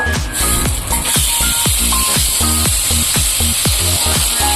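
Ground paste of ridge gourd and potato peel sizzling in a little white oil with nigella seeds in a kadai. A steady, bright hiss runs throughout, fairly loud, under rhythmic background music.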